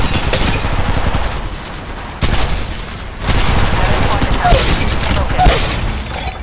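A video game shootout, with dense bursts of gunfire and booming shots that run loud and almost continuously, pausing briefly partway through.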